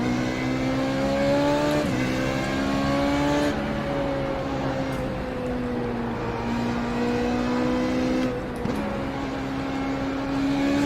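A Formula Renault 3.5 race car engine in the iRacing sim, a loud, steady high-pitched drone that climbs through the gears with short dips at each shift, continuous and close with no talk.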